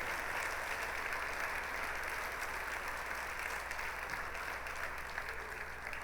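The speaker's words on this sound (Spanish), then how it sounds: "Vamos a darle un aplauso a nuestro Padre esta hermosa mañana" Sustained applause from a church congregation on a morning worship service, a steady dense wash of clapping throughout with a faint low hum beneath and no speech.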